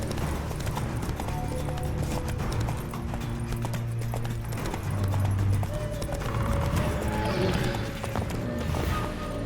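Geralt's horse Roach trots through The Witcher 3 with a steady, close clip-clop of hooves that continues for the whole stretch, over a low game backdrop, with a brief whinny-like sound partway through.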